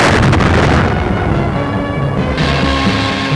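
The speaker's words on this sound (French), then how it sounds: "Et soudain, c'est l'explosion." A dynamite blast set off to snuff out a burning gas well, heard as a loud, rumbling, broadband boom that roars on through the whole stretch without fading to quiet.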